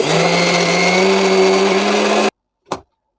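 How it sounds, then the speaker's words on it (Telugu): A loud mixer grinder grinding soaked lentils whirs steadily for a couple of seconds, then cuts off abruptly, followed by a brief thump. "ఈ పప్పుని మనము ఇప్పుడు మిక్సీ పట్టుకుందాము"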